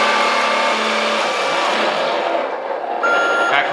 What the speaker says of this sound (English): Here the engine sound increased.